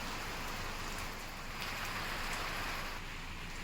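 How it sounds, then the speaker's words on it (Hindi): Heavy rain during a storm in Rishikesh makes a dense, steady hiss that stays even and continuous, with no voices. "ऋषिकेश में भी आज दोपहर बाद तेज आंधी तूफान के साथ बारिश हुई"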